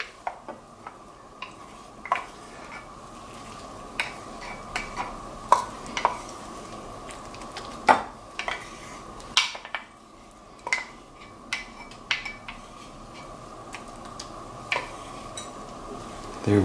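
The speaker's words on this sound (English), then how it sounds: "And now let's stir in our cup of mayo." Mayo is stirred into potato salad in a bowl, making faint scattered clinks and scrapes of a utensil against the bowl over quiet room tone.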